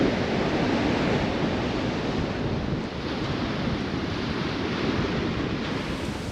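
Waves crash and surge on the shingle of Chesil Beach in Dorset, a continuous loud roar of surf and rushing water mixed with wind buffeting, with no voices.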